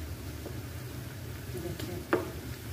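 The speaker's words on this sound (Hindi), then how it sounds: "तो इसको दोनों तरफ से हमें क्रिस्पी होने तक फ्राई कर लेना है।" Varanasi-style aloo chap, mashed potato cutlets, frying in oil over a medium-high flame until crisp. A soft, steady hiss is broken by a single sharp crackle near the end.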